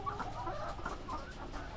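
Many chickens cluck and murmur together in a continuous, busy chorus at a moderate distance.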